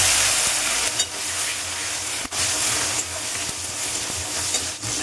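Finely chopped tomato frying in hot oil tempered with cumin and torn bay leaves for a vegetarian curry, a dense continuous sizzle with brief dips and light stirring, close and without voices.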